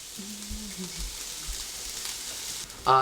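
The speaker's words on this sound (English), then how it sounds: "The vegetables are now, they're continuing to saute." Chopped vegetables sautéing in olive oil in a pan for a chicken quesadilla, a steady soft sizzle and crackle running throughout with brief low thumps and a short loud clatter at the very end.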